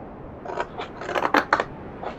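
Scissors snip through paper for a Halloween calaveras basket in a quick series of crisp, close cuts, several sharp snips in a row with no talk.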